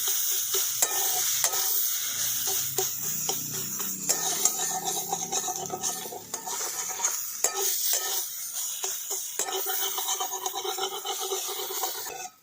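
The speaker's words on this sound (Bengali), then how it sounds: "বড়িগুলো দিয়ে শাকটার সঙ্গে একটু ভালো করে মিশিয়ে দিচ্ছি" Lentil dumplings (bori) are stirred into greens cooking in a pan, with close metal spoon scrapes and rubbing strokes over a light sizzle, steady and rhythmic for the whole stretch.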